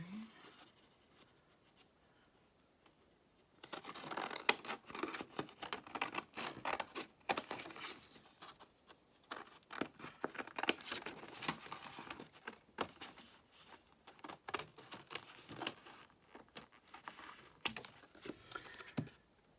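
Scissors cut through paper during a crafting session, giving a series of quiet, irregular snips and crinkly rustles at close range.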